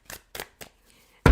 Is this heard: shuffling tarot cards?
yes